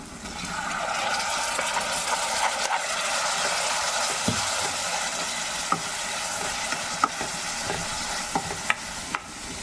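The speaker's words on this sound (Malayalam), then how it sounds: "ഇതിലേക്ക് മത്തങ്ങ വെന്തത് ഇടാം" Cooked pumpkin goes into a Kerala-style pumpkin tamarind curry in a pan, with a steady low sizzle, stirring, and scattered sharp spoon clicks against the metal. No one speaks.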